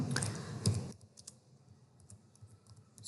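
Keys tapped on a computer keyboard while entering text into a PowerPoint slide, a quick cluster of clicks near the start followed by sparser, softer taps over a faint background hum.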